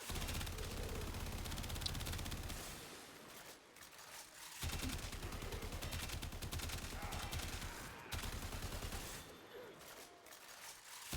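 Rapid gunfire from a weapon in the Warframe video game rattles in loud sustained bursts, broken by brief pauses that may hold reload sounds, with no talking.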